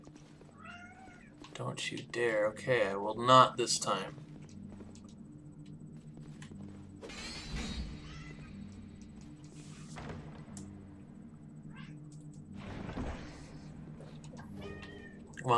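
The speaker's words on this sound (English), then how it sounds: "Sorry if you can hear my cat" A pet cat meows several times close by, a burst of calls early on and a few more later, with someone speaking to it in between over a quiet hum.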